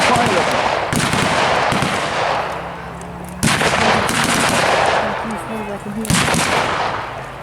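Gunfire crackles at a WWII battle re-enactment with a Sherman tank and Sten guns, three loud sharp reports each trailing a long outdoor echo, with someone talking over them.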